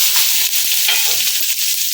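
Sliced onion sizzles steadily in hot oil, a bright close-up crackle with a few soft stirring knocks underneath.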